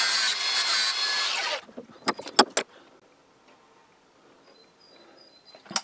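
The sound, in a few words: angle grinder cutting off excess M3 screw ends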